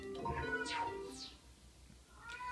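Cat meowing a couple of times at a quiet distance, with short rising and falling cries and a brief faint call near the end, over low room noise.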